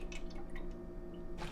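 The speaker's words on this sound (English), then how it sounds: "I'm gonna pour my liquids in the cup first" Vanilla almond milk pours into a measuring cup in a home kitchen, making soft dripping and liquid trickles over a steady low background hum. A brief splash comes near the end, and the sound is close and quiet.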